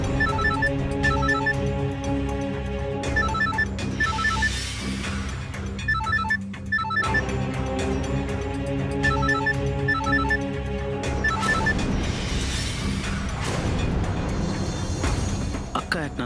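A mobile phone ringtone repeats in short melodic bursts through a TV drama scene, heard under steady background music with people talking.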